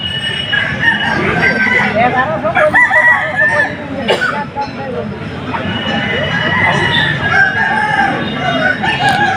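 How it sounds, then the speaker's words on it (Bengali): Chickens and roosters in a yard cluck and crow repeatedly, close and loud, with people talking and background babble. "এখানে যে মুরগিগুলো আপনারা দেখতে পাচ্ছেন এখানে কিন্তু মালিক নেই"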